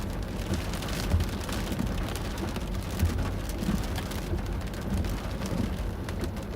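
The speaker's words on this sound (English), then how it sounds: "that's just hail again, quarter-size hail" Quarter-size hail pours down during a storm in Colorado Springs, a dense, steady roar of pelting impacts with occasional louder thuds, continuous and close with no voices.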